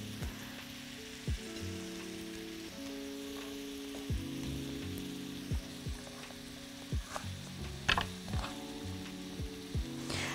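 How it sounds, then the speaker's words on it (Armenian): Chopped onions fry in a pan with a soft, continuous crackle and sizzle, broken by occasional scraping stirs and light knocks, while quiet music plays in the background. "Այսպես կսպասենք, մինչ մեր սոխը կտապակվի"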